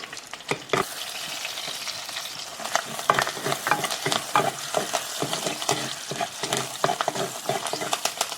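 Busy crackling and spattering of mustard seeds, shallots, dried red chillies and curry leaves sizzling in hot oil in a clay pot, with rapid irregular pops throughout, close and fairly loud, no voices.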